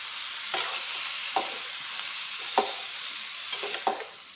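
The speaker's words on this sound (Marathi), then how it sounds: "चिरलेली वांग्याच्या फोडी घालते यामध्ये. मिक्स करून घ्यायचं आहे चांगलं." Chopped eggplant pieces stirred in a hot pan, a steady sizzle broken by a few soft scraping stirs of the spoon.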